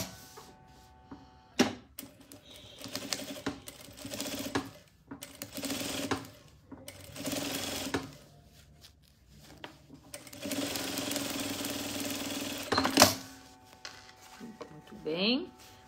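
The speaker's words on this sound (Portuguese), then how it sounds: "faço uma costura bem rente à cremalheira" A sewing machine stitches fabric for a zippered toiletry bag, running close to the zipper in several loud bursts of rapid mechanical chatter, with a voice talking in the pauses between runs.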